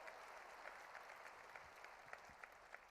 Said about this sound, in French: je vois que vous applaudissez comme ça, là